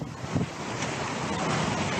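Hurricane Florence storm surge surf roars against the beachfront, a dense wash of crashing waves mixed with heavy wind buffeting the microphone, loud and continuous.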